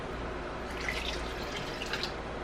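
Water pours into a blender in a steady, close stream with small splashy drips.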